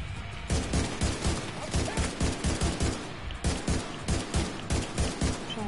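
Sustained enemy gunfire in The Division 2, loud rhythmic bursts of rapid shots repeating close by with hardly a pause, dense and steady from start to finish.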